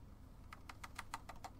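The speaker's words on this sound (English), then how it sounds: "What you're hearing there is just the skin of my fingers hitting those metal keys." Fingertips tapping the metal keys of an electronic wind instrument, about seven quick, soft clicks in an uneven rhythm, close and quiet over faint background noise.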